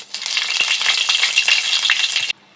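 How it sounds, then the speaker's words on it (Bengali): Whole cumin seeds and dried red chillies crackle and sizzle in hot oil with ghee for a chana dal dish, a dense close spitting fry with sharp pops that holds steady for about two seconds, then stops abruptly. "এর মধ্যে আমরা দিয়ে দেবো গোটা জিরা দিয়ে দেবো শুকনো লঙ্কা"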